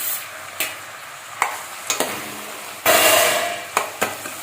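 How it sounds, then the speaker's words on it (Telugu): A spoon stirs brinjal and small peeled cucumber pieces in a pot, giving close clinks and scrapes at an irregular pace with a soft sizzle underneath, and no talking. "ఇదంతా ఒకసారి బాగా కలుపుకోవాలి"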